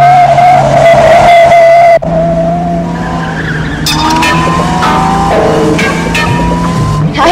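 Cars race in a GoldenEye (1995) chase, with loud tyre squeals and skids over revving engines, followed by shifting engine whines and more screeching.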